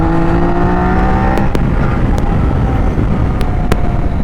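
A Triumph Daytona 660 motorcycle engine revving hard while riding: a loud, sustained high-pitched engine roar with rising and falling pitch and a few sharp gear-shift breaks, close up over wind noise.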